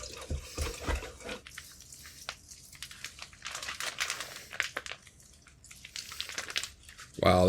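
Fermented hot sauce is milled and its liquid drains through a food mill, making soft, uneven wet trickling and crinkling close by. A person talks over it.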